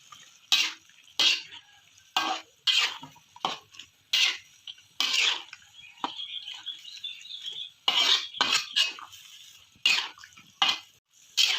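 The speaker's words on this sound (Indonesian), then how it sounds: "Langkah selanjutnya jangan lupa kita masukkan kol. Lalu kita oseng-oseng seperti ini ya teman-teman ya" Cabbage and carrots stir-fried in a pan for chicken-neck tongseng, with repeated scraping and clattering strokes of a spatula against the pan in an irregular rhythm, close and fairly loud, under a steady low sizzle.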